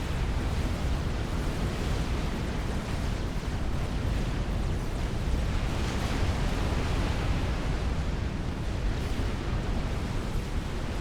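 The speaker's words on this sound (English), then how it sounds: "Explosions going down." Continuous dense rumbling roar of explosions from base destruction in the real-time strategy game Supreme Commander, with experimental bombers attacking; loud, steady and unbroken throughout, no clear individual blasts standing out.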